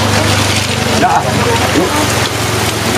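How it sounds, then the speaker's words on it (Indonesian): Rain falls steadily over Babakan Karet village, a dense, even hiss that fills the whole stretch, with people talking briefly over it. "Hujan."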